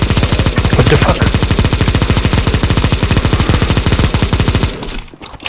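Sustained automatic gunfire while shooting zombies in CS:GO Zombie Escape, loud rapid shots in a steady unbroken burst for several seconds that stops abruptly near the end.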